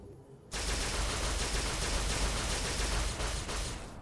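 Sustained automatic gunfire from a video game in Fallout New Vegas starts abruptly after half a second of quiet and continues as a loud, dense stream of shots to the end.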